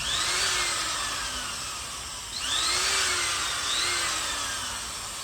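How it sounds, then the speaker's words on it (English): A high-pitched power drill whines steadily, its pitch sagging and rising as it bogs down under load while sharpening the metal blade of a 70-year-old reel mower. "Ooh, that drill's not happy."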